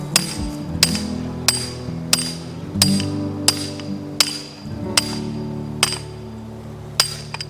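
Hammer strikes pounding an above-ground PVC sprinkler pipe down into the ground, about a dozen sharp, evenly spaced metallic clanks ringing out close by over a low steady hum.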